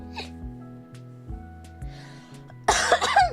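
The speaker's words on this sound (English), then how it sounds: "There's the first cough of the night." Single cough from one person, short and sharp, near the end over a quiet background of soft electronic tones.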